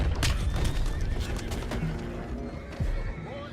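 Horses in Red Dead Redemption 2 whinny amid clattering hooves and scattered bangs, with a couple of neighs rising over a busy, rumbling game soundscape.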